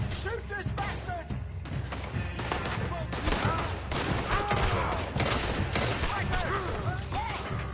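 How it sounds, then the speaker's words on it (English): Dense bursts of gunfire from a shootout in the video game The Last of Us Part II, loud and continuous with rapid overlapping shots, while game characters shout over the clatter. "Shoot this bastard."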